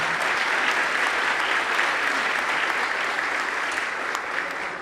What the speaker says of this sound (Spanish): Le vamos a dar también un cariñoso aplauso a nuestro invitado.